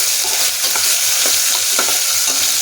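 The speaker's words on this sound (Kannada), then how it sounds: "ಈಗ ಈರುಳ್ಳಿ ಹಾಕೊಂಡು ಸ್ವಲ್ಪ ತಿರುಗಿಸ್ಕೊಳ್ಳಿ." Onions fry on a low flame while being stirred, a close, dense sizzle running without a break and marked by soft rhythmic scrapes of the spoon about twice a second, with no voices.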